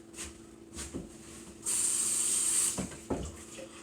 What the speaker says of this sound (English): Give that a quick rinse off just to get the egg yolks off it